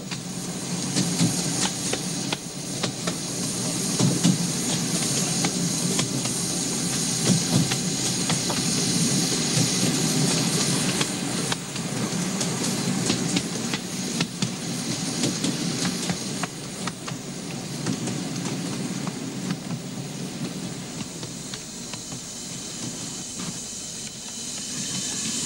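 A small steam train on the Wayside Light Railway hisses and rumbles steadily as it descends rapidly toward Amesbury Junction station, a continuous loud steam hiss over rolling wheel noise with faint clicks.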